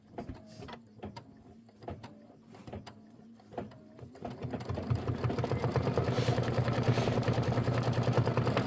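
A sewing machine stitches a quilt block for a Kimberbell Nativity bench pillow, starting with separate short bursts of clicking and then settling into a steady, loud, continuous whir of stitching.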